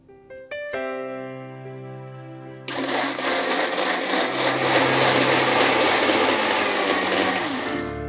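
A mixer grinder grinds soaked jowar (sorghum) into batter. After a few short tonal notes, it kicks in with a loud, dense whirring roar that holds steady to the end.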